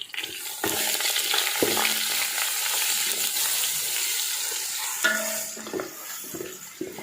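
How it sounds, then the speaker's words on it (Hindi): Garlic sizzling in hot oil in a pan with browned onions for rice with potatoes and peas, a steady crackling fry broken by the scrape and clink of a spoon stirring, fairly quiet and with no talking. "लहसुन को मैंने डाल के इसमें अच्छी तरह मिक्स कर दिया"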